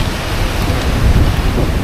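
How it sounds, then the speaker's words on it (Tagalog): Heavy rain pours down on a stormy coast in Mauban, Quezon, as a dense, loud, continuous hiss mixed with a low rumble of wind and surf, with no voices. "Silong muna kami sa kubo kasi malakas na ulan."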